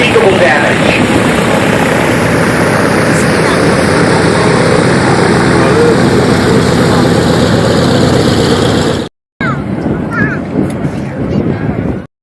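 A T-33 jet trainer passing over an air show, a loud sustained roar with wind buffeting that cuts out abruptly, then resumes as a rougher continuing rumble.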